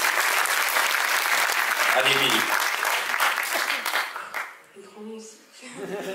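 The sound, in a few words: audience applauding a pageant contestant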